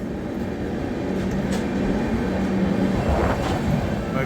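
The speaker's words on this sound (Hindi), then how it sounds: "यह है महाकौशल एक्सप्रेस का ऑरा, ये सुपरफास्ट पैसेंजर ट्रेन।" The Mahakaushal Express superfast passenger train runs along its route, a steady low rumble and rolling drone that holds throughout, with faint rattles rising now and then.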